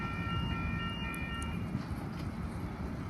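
Sydney train passing at a station on the line toward Bondi Junction, a steady loud low rumble of wheels on rails with faint high tonal whine, continuous over a few seconds with no talking.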